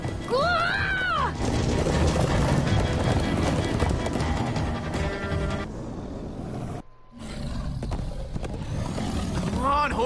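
Horses galloping in a game, rapid hoofbeats under loud music and roaring effects, with voices shouting over the action and a brief silent gap near the end.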